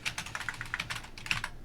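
Quick irregular clicks of typing on a computer keyboard, close and fairly quiet, a brief burst of keystrokes with no voices.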